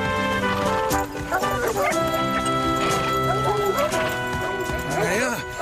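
A pack of hunting dogs on a fox hunt barks and whimpers amid horse hooves and voices, loud overlapping yelps and whines running throughout under dense talk.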